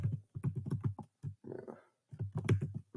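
Computer keyboard keys tapped in quick bursts while a password is typed, close and fairly quiet, with brief pauses and a soft rustle between the runs of keystrokes.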